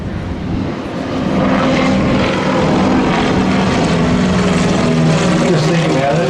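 Fokker Trimotor Southern Cross II, a three-engine propeller airliner, flying past at an airshow, its loud steady propeller drone swelling and holding, with a voice talking over it.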